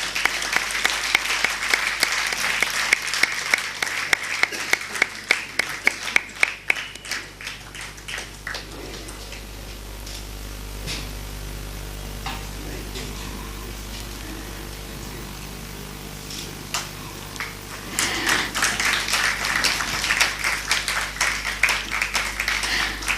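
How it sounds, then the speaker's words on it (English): Audience applause at a health and spirituality lecture, a long burst of sustained clapping that fades to a lull in the middle and then swells again near the end. "Big round of applause."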